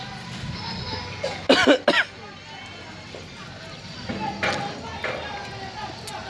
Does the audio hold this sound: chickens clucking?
no